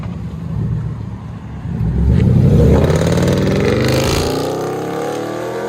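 Dodge Durango R/T with a 5.7L HEMI V8 running straight pipes, a loud, deep exhaust rumble that rises and holds as the engine revs, then settles back toward a steady idle.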